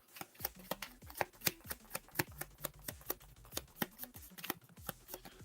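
A deck of cards is shuffled for a tabletop card game, a close run of quick riffling bursts and sharp slaps in an uneven rhythm, quiet and with nobody talking.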